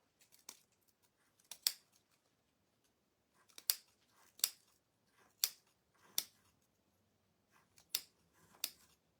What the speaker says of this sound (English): I'm just going to cut these apart while I'm waiting on my glue to heat up.